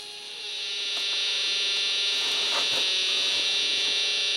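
A radio receiver fed by an RF signal generator produces a steady, shrill high-pitched test tone. It fades in over the first half second, then holds loud and continuous, with no talking.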